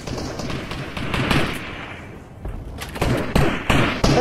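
Rapid bursts of gunfire in the video game Fortnite, a dense run of sharp shots crackling close by and then again in clustered volleys toward the end.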